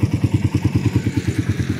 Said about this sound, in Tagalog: marami pong dumadaraang sasakyan po dito